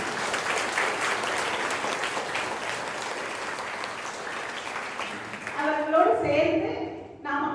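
An audience at a college archaeology talk in Krishnagiri claps in a sustained, even round of applause that fades out after about five seconds, when a person begins speaking.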